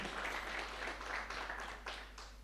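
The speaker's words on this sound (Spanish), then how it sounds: "Un aplauso más para el coro Nueva Alegría." A church congregation applauds the Nueva Alegría choir during a prayer service, a steady moderate patter of clapping from a roomful of people, slightly distant and fading toward the end.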